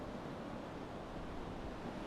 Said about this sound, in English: you see there are lots of waves here today.